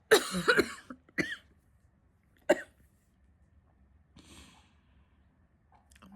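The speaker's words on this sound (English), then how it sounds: "I shouldn't be coughing this deep too." A few deep, harsh coughs burst out close by, separated by pauses, followed by softer wheezy breathing.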